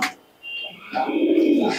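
Pigeon cooing from tournament-flying Andhra pigeons kept at home, a soft low murmuring coo building through the second half, with a brief thinner call near the start and a higher tone over it.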